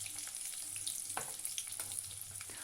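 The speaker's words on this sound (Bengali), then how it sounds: "এবার ছাড়িয়ে রাখা রসুনটা একটু থেতো করে গরম তেলের মধ্যে দিয়ে দেব।" Crushed garlic fries in hot mustard oil, a faint, steady crackling sizzle with scattered small pops throughout, no voices.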